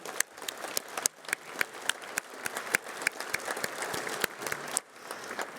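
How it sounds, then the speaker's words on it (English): A room of listeners claps for a panel after a discussion on manufacturing, exporting and trade tariffs, with sharp, scattered individual claps over a steady patter that stops abruptly near the end. "Let's give them one more round of applause"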